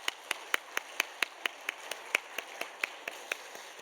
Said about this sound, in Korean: 한번 감사의 박수 해주시면 감사하겠습니다.